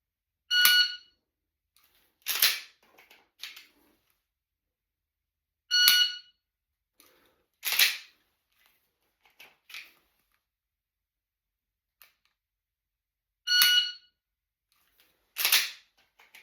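Three electronic shot-timer beeps during shooting practice, each followed a second or two later by a sharp, loud gunshot, with a few fainter clicks between strings.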